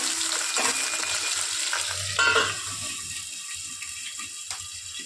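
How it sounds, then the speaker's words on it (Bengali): Dried fish fry in hot oil with a steady hiss, broken by clatters and scrapes of stirring and a brief louder burst partway through; no voices. "মাছগুলোকে একটু ভেজে নেব"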